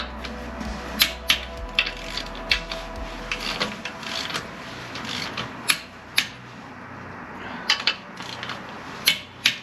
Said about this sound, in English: Torque wrench one more time.